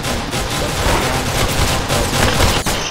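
Rapid pistol gunfire in the Roblox-style shooter game Arsenal, a dense, loud, unbroken volley of shots with no talking.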